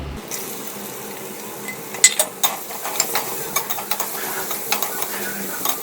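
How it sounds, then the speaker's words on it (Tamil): Onions sizzle gently in a pan while a dosa ladle scrapes and stirs, with a run of small clicks and taps against the cookware. "இதெல்லாம் கிண்டுறதுக்கு இந்த தோசை கரண்டி ரொம்ப சௌரியமாக இருக்குங்க."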